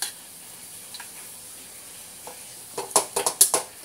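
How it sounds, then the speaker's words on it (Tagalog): Pork frying in a pan for a simple home-cooked dish, heard as a faint low sizzle followed by a burst of sharp crackles and spits near the end. "Pero magpiprito muna tayo nito."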